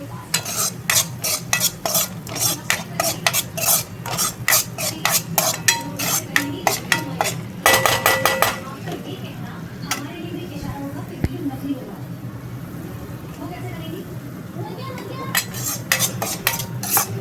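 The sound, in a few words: stirring and frying dal in ghee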